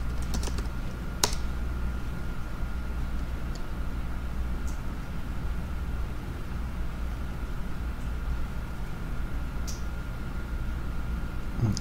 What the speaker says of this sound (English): I'm going to type in my location here.